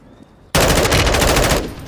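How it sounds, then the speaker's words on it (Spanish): Automatic rifle fire in a battle royale match on Ashika Island: after a quiet moment, a sudden close, loud burst of rapid repeated shots lasting about a second before tapering off. "Me disparan"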